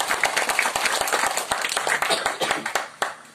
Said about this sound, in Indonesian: Boleh tepuk tangan yang buat Yesus.